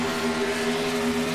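A race engine at full song during the Daytona 200, captured onboard: a loud, steady, buzzing drone held at constant pitch for a brief moment, close to the microphone.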